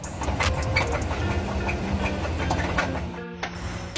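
Engine of a brand-new GMC Yukon Denali with about 300 miles, suffering severe rod knock: a close, steady mechanical running sound with rapid rhythmic ticking and knocking, ending in a brief cut near the end.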